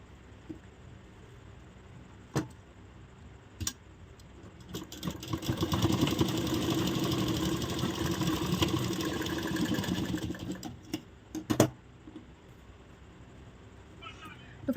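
An electric sewing machine stitches a dart on a blouse in one continuous run of several seconds. Its rapid, steady whirring hum is close by, framed by a few clicks and handling knocks before and after.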